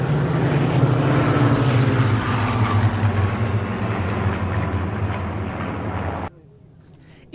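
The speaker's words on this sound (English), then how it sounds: "let's see and hear the great sound of these Spitfires" Supermarine Spitfire engines roar loud and steady as the aircraft pass, a deep droning rumble that fades slightly before cutting off abruptly near the end.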